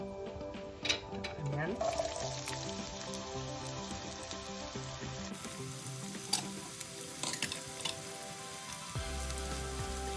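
Cumin seeds sizzling and crackling in hot oil in a pan, a steady close frying hiss with some stirring and faint background music.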